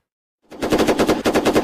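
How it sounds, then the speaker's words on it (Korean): North Korean security forces fire a machine gun in training, a rapid, loud burst of evenly spaced shots that starts after a brief silence and continues steadily. "북한 인민보안원들이 기관총 사격을 하고 있습니다."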